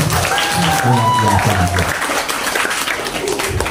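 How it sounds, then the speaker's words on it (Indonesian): An audience at a live Ramadan event for a Temanggung hospital applauds the two MCs, a dense wash of clapping heard beneath an amplified voice speaking over it. "Tepuk tangan untuk kedua MC kita."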